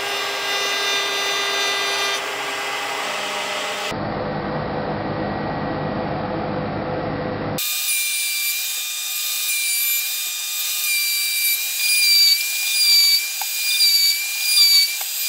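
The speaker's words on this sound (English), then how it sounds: "What if we did one more relief cut with the router?" Router table cutting a relief cut in wood for a stacked-book tiered tray, heard as a loud high-pitched whine in abrupt sections with some whistling tones and uneven bursts, no talking.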